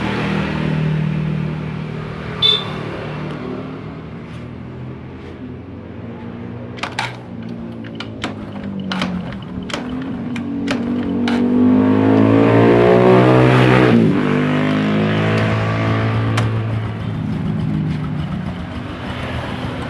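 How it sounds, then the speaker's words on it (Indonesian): A carbureted motorbike with fuel dripping from its carburetor drain hose starts up and settles into a loud, steady idle close by, with the revs swelling midway before easing back. "kita hidupkan motornya teman-teman. Kita on kan dulu kontaknya."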